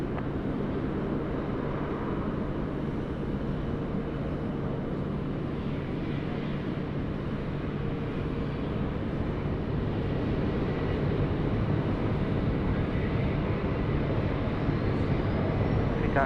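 A Qantas airliner on its takeoff roll from runway 16 right at Sydney Airport, a loud, steady broadband engine roar with low rumble holding constant throughout, heard from a distance outdoors.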